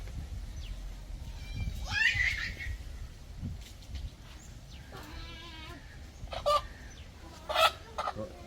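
Chickens on a poultry sale, calling in short bursts with a few louder clucks and squawks scattered over a noisy outdoor background, no talk.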